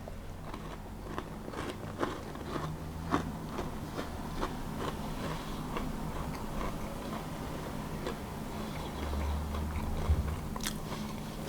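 Sharp crunchy bites and chewing on a hard coconut biscuit, crunchy outside and softer inside, a series of crisp cracks spread over several seconds, close and fairly quiet.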